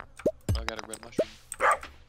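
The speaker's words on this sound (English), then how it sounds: "What are you even barking at? He just barks." A dog gives a few short, sharp barks and yips up close, spaced irregularly with brief pauses between bursts, during a Stardew Valley play session.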